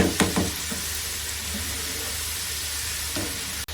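French fries deep frying in hot oil, a steady bubbling sizzle that holds at an even level throughout, with a few brief clatters near the start.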